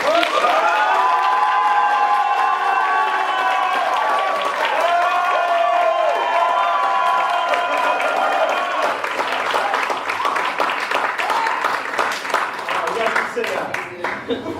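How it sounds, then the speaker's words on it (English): A crowd claps and screams together on cue, a loud, sustained roar of applause mixed with shouting and cheering voices that fills the whole stretch, with some tonal vocal whoops standing out early on. "I want everybody to start clapping right now, and then I want you guys to just start screaming."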